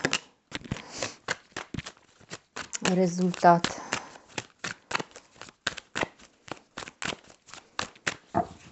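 Repeated crisp riffling and slapping of shuffled tarot cards, quick bursts in a steady rhythm, close up, with a brief spoken word in the middle.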